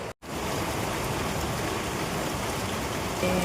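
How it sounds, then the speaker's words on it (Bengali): Heavy rain pours down during a sudden downpour with strong wind, a dense, loud, unbroken hiss of drops on surfaces that fills the whole moment after a brief cut at the start. "কি হারে বৃষ্টি হচ্ছে, আর তেমনি দিচ্ছে প্রচণ্ড হাওয়া।"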